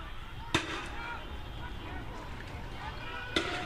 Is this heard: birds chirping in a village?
no